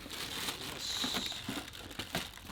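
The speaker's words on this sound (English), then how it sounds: "put this all into a plastic bag as well" Parts from a Raymarine Evolution autopilot system being packed into a plastic bag, with steady close crinkling and rustling and a few sharper crackles throughout, no talking.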